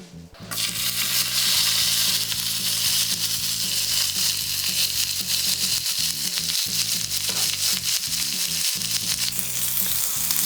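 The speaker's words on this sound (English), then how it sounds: "add your meat straight to the heated pan on medium heat" Beef slices frying in a heated pan over medium heat for yakiniku don: a loud, dense, unbroken sizzle close up, running the whole time over faint background music.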